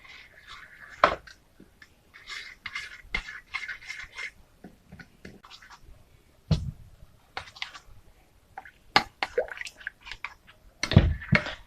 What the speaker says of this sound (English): I'm then going to mix it with half of cup of water.